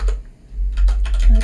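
Java code is typed on a computer keyboard as a short, close run of rapid key taps over a low steady hum.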